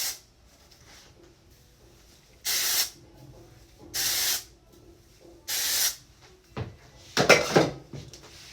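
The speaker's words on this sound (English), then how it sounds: "I use a dry shampoo. I put it at the roots." Dry shampoo sprayed from an aerosol can onto hair roots in three separate short bursts, each about a second long, close and fairly loud over a quiet room, followed by some brief handling rustles.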